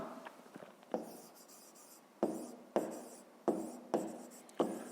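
A pen writing a math solution by hand on paper, with close, quiet scratching strokes and a few sharp taps as the tip lands, in a quiet room without speech.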